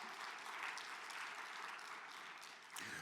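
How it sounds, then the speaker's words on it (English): Sustained applause from a large audience at a civil rights summit plenary on disability rights, steady dense clapping throughout, dipping briefly near the end before swelling again. "yes, again, worthy of applause"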